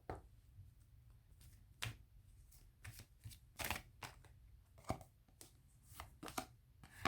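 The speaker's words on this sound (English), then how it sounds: "Let's cut the deck." A tarot card deck being cut and shuffled by hand, a sequence of crisp, close riffling snaps and slaps at irregular intervals against a quiet background, with no talking.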